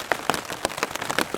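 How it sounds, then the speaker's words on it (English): Steady rain falls outside at night, a dense patter of drops striking surfaces close by with irregular louder splashes, with no voices. "It started raining"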